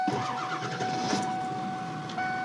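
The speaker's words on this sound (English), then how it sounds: "now it gets really cool when I start the van and it's super loud" A high-top van's engine cranks and catches, then settles into a loud, steady idle close by.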